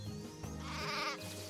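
A sheep in the video game Craft the World lets out a single wavering bleat, close and clear, lasting about a second.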